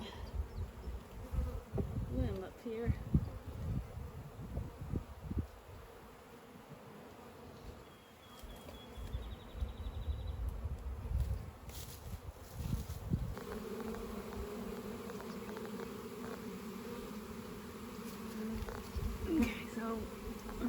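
A loud, steady buzzing of two honey bee swarms side by side, many bees droning close by with shifting intensity and occasional nearer passes as bees land on a door and fan.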